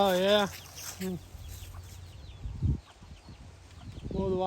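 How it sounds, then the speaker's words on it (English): Chickens clucking outdoors during a nature walk, with a few soft, scattered clucks in the background under people talking nearby. "she's got chickens everywhere"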